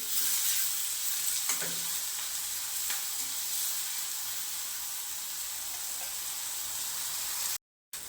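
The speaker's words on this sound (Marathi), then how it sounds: "ह्या पद्धतीने आपल्याला ह्या भाज्या शिजवून घ्यायच्यात" Vegetables lightly salted in a pan for a wheat-flour batter breakfast, frying with a steady close sizzle and hiss throughout, a few faint clinks and stirs, then a brief dropout near the end.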